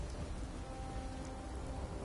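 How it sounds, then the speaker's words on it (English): Steady rain in Fallout 4, a continuous even hiss of falling water with a low rumbling bed of thunder, heard alone without any talk. "Of course it's raining."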